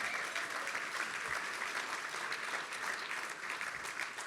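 A gala audience breaks into sustained applause, steady clapping from many hands that carries on without a break, heard from a little distance.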